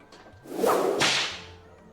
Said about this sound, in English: I'm gonna whip him.